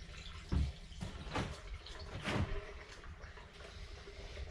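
E85 fuel draining from a turbo Foxbody car into a bucket, a quiet trickling and splashing liquid stream with a few louder gurgling splashes, close by and without any talking.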